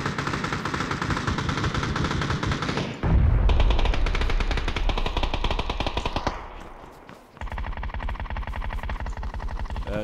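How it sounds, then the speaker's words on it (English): Sustained automatic gunfire in PUBG on the Vikendi map rattles on nearly nonstop, loud and nearby, with a heavy boom around the third second and a brief lull before the rapid shots resume, with no speech. "I think it sounded like shots near us."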